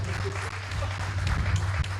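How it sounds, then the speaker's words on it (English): An audience in a banquet hall at the Union of Liberian Associations in the Americas 50th anniversary celebration in Atlantic City claps together in steady applause, over a low electrical hum and faint voices. "Let's give a round of applause."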